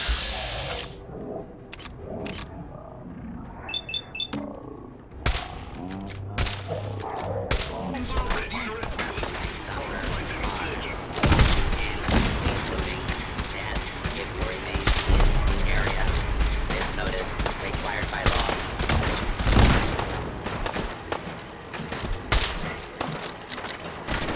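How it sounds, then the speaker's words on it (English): In a video game, warning shots are fired from cannons aboard the ship Constitution at approaching scavengers. A dense run of loud, sharp blasts and rattling bursts keeps up almost without pause for most of the stretch. "Soldier, man the cannons. Kill them only as a last resort. A few warning shots usually suffice to..."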